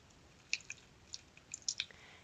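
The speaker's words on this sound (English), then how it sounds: "For example, custard. If I was to stir it around," Virtual custard stirred in the 2Simple Mini Mash builder's tray app gives soft, wet squelching blips, a handful of quiet squishy clicks scattered irregularly over two seconds against near silence.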